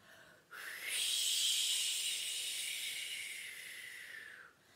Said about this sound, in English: That is the sound of the wind blowing.